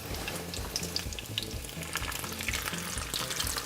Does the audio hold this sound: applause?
no